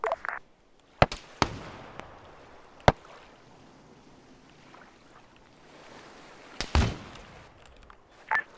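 Naval artillery fire from an offshore battleship in a military video game invasion: a handful of sharp, separate booming blasts spaced irregularly over a low rumbling background, with a louder cluster of impacts near the end.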